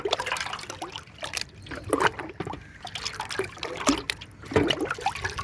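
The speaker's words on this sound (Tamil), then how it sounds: "தண்ணி மிக்ஸ் பண்ணி ஊற்றுறேன்" Water mixed with plant feed is poured over garden plants, an uneven close trickle and splash with gurgling surges and drips, no talking over it.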